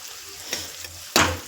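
Chopped onion dropped into hot oil with green chilli and garlic, giving a sudden loud sizzle near the end after a couple of soft stirring scrapes and a faint frying hiss.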